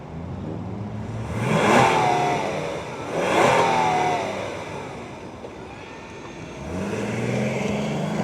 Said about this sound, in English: let's fire up the V6 and hear what it sounds like